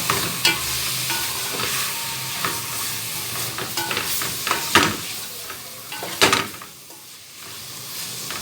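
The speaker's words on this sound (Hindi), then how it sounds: "चिकन देखें अच्छे से मैंने फ्राई कर ली है प्याज हरी मिर्चों में अच्छे से" Chicken pieces fry loudly with onions and green chillies, a dense sizzle broken by repeated scraping stirs and clanks of a spatula in the pan, close up and without talk, easing off briefly near the end.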